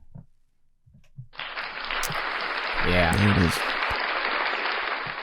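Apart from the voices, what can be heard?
applause for Saka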